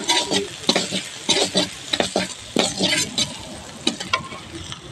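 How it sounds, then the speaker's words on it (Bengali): Chopped garlic frying in a pan, a loud close sizzle broken by frequent scraping stirs of a spatula, busy and uneven, with no talk. "রসুনটা ভালো করে ভেজে নিয়েছি"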